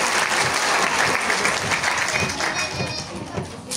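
Strong audience applause at a school chess tournament award ceremony, a dense sustained clatter of many hands with crowd noise and some voices mixed in, tapering slightly toward the end.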